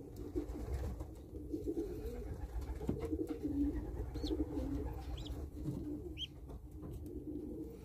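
Pigeons coo in a loft, a close, low, continuous murmur of throaty calls with a few higher chirps from young birds over it.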